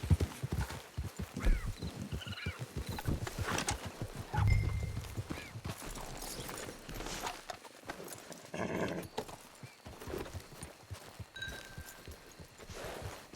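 Horse hoofbeats from the Red Dead Redemption 2 video game, a steady clip-clop of a horse at a walk with an occasional whinny, near and clear with little talk.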